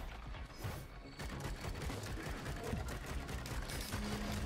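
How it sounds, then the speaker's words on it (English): Repeated explosions from Clay Dune Strider attacks during Risk of Rain 2 gameplay, a dense run of loud bursts and crackling impacts that keeps going over a busy game soundscape. "those explosions you hear, that's the Clay Dune Strider trying to kill us"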